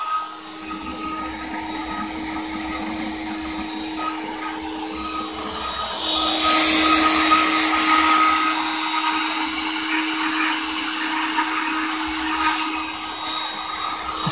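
A Shapeoko 3 CNC router carves two pieces of wood flooring at 75 inches per minute, its steady whining motor and cutting hum continuing throughout and swelling louder midway, with no talking.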